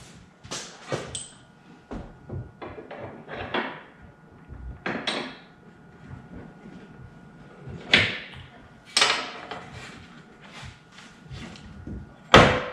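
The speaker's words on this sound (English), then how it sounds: "Now the door has to be hung," A series of knocks, bangs and thumps as a Can-Am Defender half door is hung, with metallic clanks and scraping between, some sharp and close, spread over several seconds.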